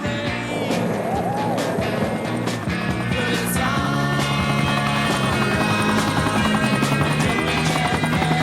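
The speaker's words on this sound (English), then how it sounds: "I can hear a frigging helicopter" A helicopter flies nearby, its rotor thudding loudly and steadily throughout with a constant engine whine.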